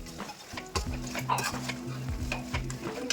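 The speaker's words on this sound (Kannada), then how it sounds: "ಇದನ್ನು ಸ್ವಲ್ಪ ಚೆನ್ನಾಗಿ ಮಿಕ್ಸ್ ಮಾಡಿ" A spoon stirs sambar powder mixed into a pan over heat, scraping in a steady repeated rhythm over a constant sizzle, close and fairly loud, with no talking.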